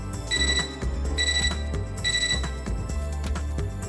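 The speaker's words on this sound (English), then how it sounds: "The computer beeps, which ends the conversation for now." A computer in the Fate/Extra video game beeps in repeated bright electronic tones, three clear bursts over a loud low musical background.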